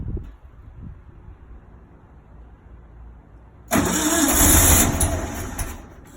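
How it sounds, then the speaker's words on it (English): A Volkswagen Beetle being started: after several seconds of quiet low rumble, the engine abruptly catches with a loud broadband burst of cranking and running that holds steady, then eases slightly near the end, with no talk. "Is it in neutral? All right, go ahead and try to start it."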